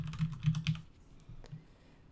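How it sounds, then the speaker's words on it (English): Someone types a quick burst of clicks on a computer keyboard, then a few slower, softer keystrokes. The keys are close and clear, with no voices. "Typing."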